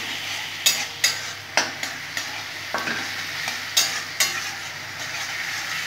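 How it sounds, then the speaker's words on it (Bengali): Onion is sautéed in oil with sharp, regular scrapes of a spatula against the pan every half second or so over a continuous sizzle, close and clear, no speech. "ভালো করে কষে নেবো পেঁয়াজটা থেকে, যতক্ষণ না পর্যন্ত কাঁচা গন্ধটা দূর হয়"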